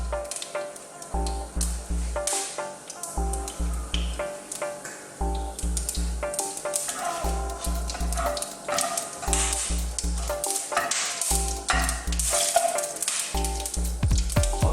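Whole spices sizzle and pop in hot oil for goat curry: a dried red chili, mustard seeds, coriander seeds, fennel seeds and cloves, with a steady crackle, sharp spitting bursts and a repeating low thump underneath.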